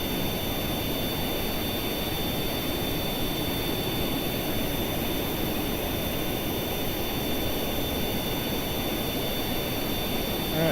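A steady jet aircraft engine drone at 75% throttle in Kerbal Space Program, a constant broadband roar with a thin high whine, unchanging and alone for the whole stretch.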